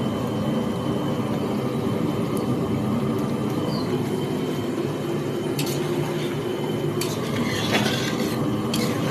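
Ghee sizzling in a pan while aloo dum cooks, a loud continuous frying hiss with occasional metallic clinks of utensils near the end.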